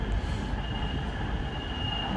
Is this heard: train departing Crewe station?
yes